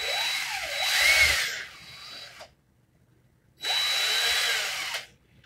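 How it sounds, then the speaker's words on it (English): A power drill twisting wires together whirs in two sustained bursts of about two seconds each, its whine rising and falling, separated by a short silent pause. "now my drill is in clockwise, and I'm just going to twist"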